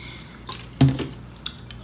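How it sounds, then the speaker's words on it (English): Orange juice poured into a glass while mixing a drink, a brief close liquid splash and gurgle in the middle with a few faint drips around it, otherwise quiet and without talk. "fill it up with orange juice"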